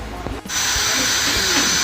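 A brief knock, then a loud electric drill whines continuously at high speed, a steady close-up buzzing grind, boring a hole while replacing an air circuit breaker.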